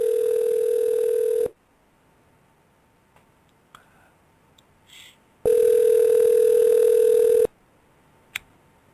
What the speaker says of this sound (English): Ring, ring.